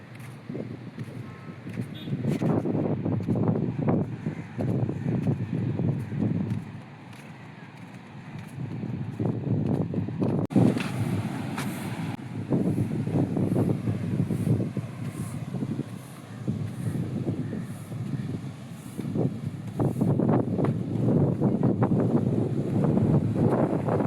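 Wind at Besant Nagar beach buffets the microphone in loud low gusts that rise and fall, with surf faintly beneath and occasional footsteps or rustling.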